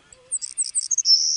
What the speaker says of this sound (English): birds like this savanna sparrow, they tend to have a buzzing type call